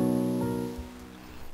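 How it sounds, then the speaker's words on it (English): A piano chord processed with bitcrusher and distortion in Logic Pro X rings out as a sustained gritty tone, loud at first and then slowly fading with a noisy, crunchy edge. "add a little bit of distortion and bit crusher just to add some of that noise in the background"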